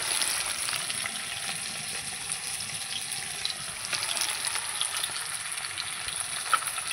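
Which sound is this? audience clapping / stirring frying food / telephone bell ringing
stirring frying food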